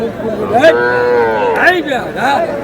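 Several young bull calves low in drawn-out, rising calls at a cattle market in Aftabganj, amid busy background noise, with people chattering nearby throughout.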